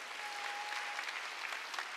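A church congregation claps during a Korean Sunday worship service, producing a steady, even patter of many hands that sounds fairly faint and distant, with no voices over it.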